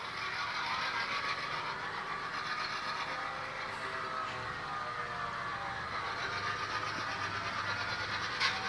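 An HO scale model train rolls along its track on a hobby layout, giving a faint, steady rumbling hiss that stays even throughout, with no voices over it.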